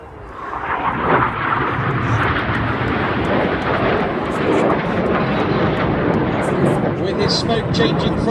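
Red Arrows jets rolling overhead at the Biggin Hill air show make a broad, loud, sustained roar that swells slightly, with a commentator's voice faintly mixed into the crowd and engine noise.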